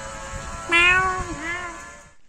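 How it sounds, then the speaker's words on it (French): A cat gives a single clear drawn-out meow with a wavering pitch, fairly close and heard alone over faint background noise. "Ouais, un chat."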